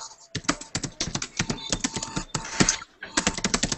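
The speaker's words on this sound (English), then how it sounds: "I can hear someone typing" Rapid, steady keystrokes on a computer keyboard clatter close up in a quick run for nearly four seconds, with one short pause, heard on a group call.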